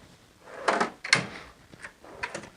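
A drawer on a Harbor Freight five-drawer service cart slides open with a couple of rattling, scraping bursts of metal runners and loose tools and bolts inside, close by, followed by a softer clatter.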